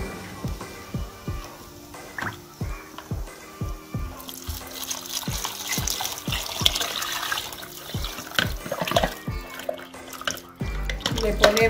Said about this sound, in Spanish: Enjuagamos el recipiente con el agua para echársela.